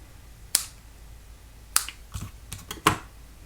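Paper snips cutting card stock for a handmade card, giving sharp, isolated clicks spaced apart and then a quick cluster near the end, close-up in a quiet room.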